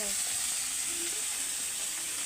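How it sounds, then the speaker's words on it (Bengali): A pot of rice at a vigorous boil gives off a continuous sizzling, frothy hiss, loud and near, with a few faint background sounds under it. "বেল বেল করে তো ফুটতেই আছে এক ঘরে।"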